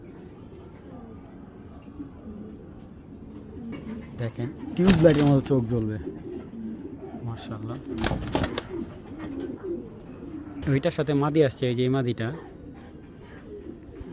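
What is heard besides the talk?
Indian Shahjahanpuri pigeons cooing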